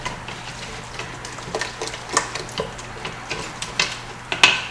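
Whisk or spoon scraping and tapping in a pan while a roux for vegan mac and cheese cooks, a slow uneven rhythm of soft clinks and scrapes over a low steady hum, close and moderate in level.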